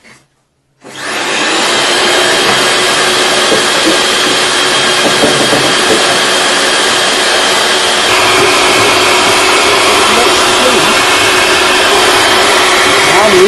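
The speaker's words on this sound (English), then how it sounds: "now I'm gonna try to blow that channel again with the vacuum cleaner" A vacuum cleaner used as a blower roars steadily through the channel of an LG TD 75120E tumble dryer, starting abruptly and staying loud and close throughout with no one speaking.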